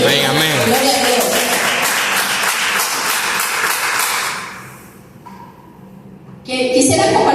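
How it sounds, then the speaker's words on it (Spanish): A church congregation applauds during a sermon, a loud, dense round of clapping mixed with voices that fades after about five seconds, then a burst of noise returns near the end. "Denle un aplauso a Dios"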